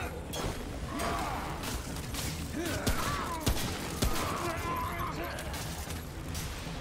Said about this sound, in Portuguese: Tem gente atirando de todo lado.